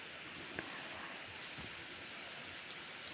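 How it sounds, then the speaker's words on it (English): Rain showers patter on a rooftop, making a soft, steady hiss of drops with a few faint individual taps, quiet and continuous with no voices. "The magic of showers, the magic of pitter patter in my rooftop."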